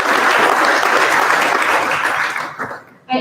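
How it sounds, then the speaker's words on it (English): Dense applause from a business luncheon audience honoring chamber sponsors, steady and loud for most of its length, then thinning toward the end with a brief renewed burst. "So please give them a round of applause."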